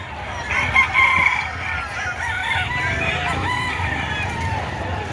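Chickens and roosters at a poultry market in Padre Garcia, Batangas, with a loud rooster crow near the start over steady clucking and crowd murmur throughout.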